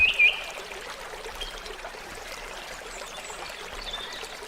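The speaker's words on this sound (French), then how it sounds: "Une petite rivière bordée d'arbres." A small tree-lined river, no more than about half a metre deep, flows steadily with a soft, continuous trickle and stream of water, close and alone.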